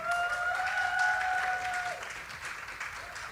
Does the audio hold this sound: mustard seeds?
no